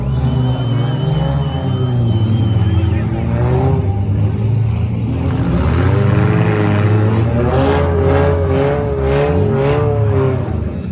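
Race vehicles moving on a track, several engines droning and revving at once with rising and falling pitch, loud and continuous, steady mechanical hum beneath.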